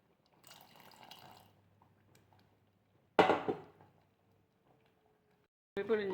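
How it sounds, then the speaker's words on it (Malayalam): Squeezed tamarind water is poured into a pot of sambar with dal and vegetables, giving two short, sharp liquid splashes after a soft, faint trickle. The kitchen stays quiet between the pours. "പുളി പിഴിഞ്ഞത് ഒഴിക്കാം."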